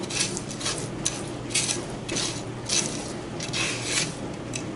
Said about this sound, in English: we're just going to keep making sure that we move this around in the pan so it doesn't burn.